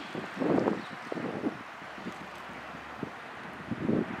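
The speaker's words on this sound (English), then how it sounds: "Little windy out here today." Gusty wind buffeting the microphone outdoors in Ohio Amish country, coming in low rumbling bursts that swell and fade over a quiet background.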